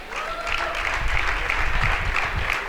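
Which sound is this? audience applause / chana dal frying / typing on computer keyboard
audience applause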